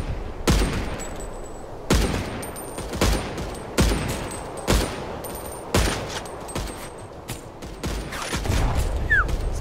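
Gunfire in the online shooter Core rings out as a series of sharp, separate shots, roughly one per second, with a busier crackle of fire toward the end and no voices.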